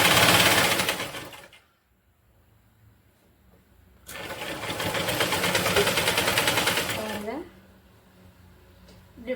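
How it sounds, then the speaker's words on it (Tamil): A sewing machine stitching folded waste cloth into a doormat runs in two loud bursts separated by a quiet pause, with a softer mechanical hum near the end. "மடக்கி விட்டு ஃபோல்டு பண்ணி கொஞ்சம் கொஞ்சமாக ஸ்டிச் வந்து போட்டுக்கிட்டே வரணும்."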